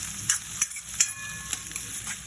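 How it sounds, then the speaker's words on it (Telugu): Cut onion pieces fry in hot oil in a pan for South Indian Chettinad pepper chicken, giving a steady close sizzle broken by sharp clicks and scrapes of stirring, with no talk. "కట్ చేసుకున్న ఉల్లిపాయ ముక్కలు ఫ్రై చేసుకోవాలి"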